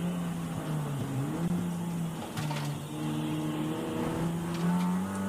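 A Honda and an Audi race side by side around a track during an MSV Trackday Trophy race. Their engines drone steadily, with pitch shifts through gear changes and brief bursts of revving. No one speaks.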